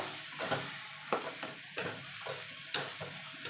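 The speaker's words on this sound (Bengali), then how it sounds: "ধনে পাতাটা দিয়ে দেবো আবার ভালো করে মিশিয়ে নেব" Chopped coriander being stirred and mashed into roasted eggplant for begun pora, with a series of soft scraping and squelching strokes at an irregular rhythm, close and fairly loud, no voices.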